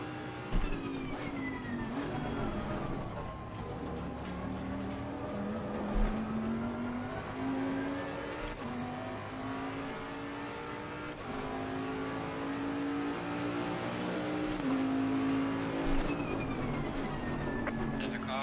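Race car engines in Assetto Corsa Competizione at Zolder, with a steady droning whine that climbs and falls through gear changes for the whole stretch, and someone talking over it.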